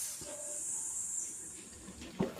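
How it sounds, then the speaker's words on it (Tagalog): Chicken adobo simmers in a covered pot, giving a steady soft hiss of steam with a brief clink near the end. "I-simmer ko ito for 30 minutes."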